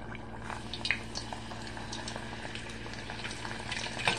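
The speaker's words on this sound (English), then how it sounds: "You want to take a spoon that has holes in it and just drop it into the hot oil." Cheeseburger egg rolls lowered into hot frying oil, a close, steady bubbling sizzle with small pops and crackles throughout, no one talking.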